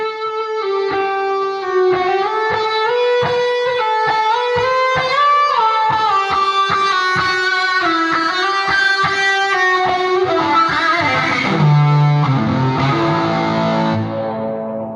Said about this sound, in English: So I will add in the distorted part now.